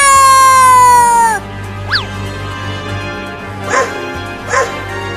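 A dog barks a few times in short, sharp yelps after a sustained electronic tone fades, with sparse gaps between barks.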